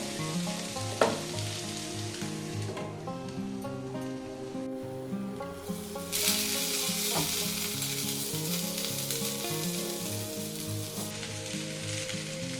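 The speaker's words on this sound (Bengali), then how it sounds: "এটা মিডিয়াম হিটে একটু ঢাকা দিয়ে দিয়ে ভেজে নেবো" Bitter gourd and potatoes frying in a pan on medium heat, a loud, close, continuous sizzle with occasional stirring scrapes and pops.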